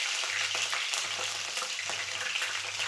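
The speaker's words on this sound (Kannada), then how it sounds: "ಸಾಸಿವೆ ಕಾಳು ಚಟ ಅನ್ನಕತ್ತವ" Mustard seeds crackling and spattering in hot oil, a dense, bright sizzle with small popping bursts, close and steady throughout.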